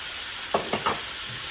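Onions and beef fry in a pan, with a soft background sizzle broken by three quick utensil stirs and scrapes, close by with no talk.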